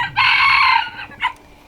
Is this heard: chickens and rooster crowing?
yes